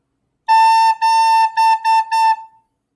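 Recorder plays five notes on A, two held and three quick, in a ta-ta-ti-ti-ta pattern; bright, steady tone heard alone and up close, the last note fading.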